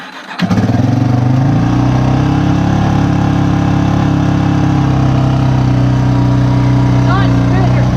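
A small engine on half choke catches and settles into a loud, steady idle that runs without sputtering and stays close and constant throughout.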